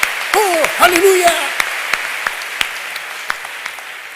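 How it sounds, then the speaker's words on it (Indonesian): Congregation in a church gathering bursting into applause, a dense wash of clapping that swells early with a few cheering voices, then thins to scattered claps over the last seconds. "Kita berikan tepuk tangan buat Tuhan."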